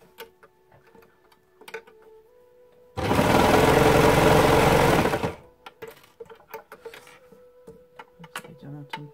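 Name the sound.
Babylock N-Line overlocker serger running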